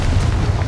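Confringo spell explosion in Hogwarts Legacy: a single loud, close, rumbling blast that fills the whole short moment.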